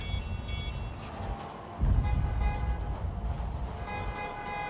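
A train in Marvel's Spider-Man game rumbles loudly and continuously, with a heavier surge of rolling rail noise partway through and faint tonal ringing above.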